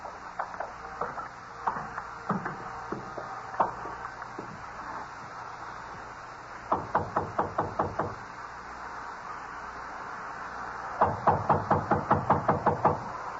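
Knuckles rap on a door in short bursts of quick, sharp knocks, a few scattered taps first and then two loud runs of rapid knocking, set against a steady hissy background.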